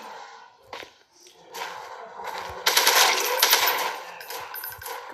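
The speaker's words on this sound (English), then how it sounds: "Ooh, shoot with that AK." Repeated AK rifle fire from a Slenderman video game, a dense burst of loud crackling shots building midway and continuing to the end, with no talking.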